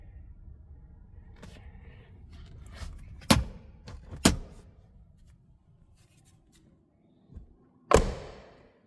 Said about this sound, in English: Some of the nicest sounding doors you'll ever hear.